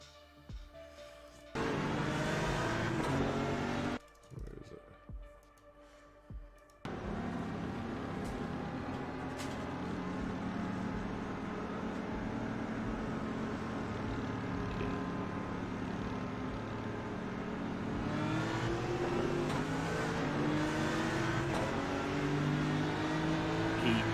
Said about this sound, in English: I think he's a little bit delayed in the gear change out of first.